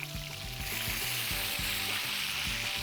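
Duck breast and red grapes sizzle in a hot pan, a steady frying hiss with repeated soft crackles and bubbling pops throughout, unbroken by talk.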